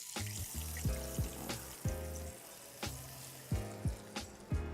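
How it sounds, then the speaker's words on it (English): Sage brown butter sizzling as it is spooned over egg yolk ravioli, a series of close bursts of crackling sizzle and liquid pouring in uneven pulses, no voices. "We're gonna hit it with a little bit of that nice sage brown butter."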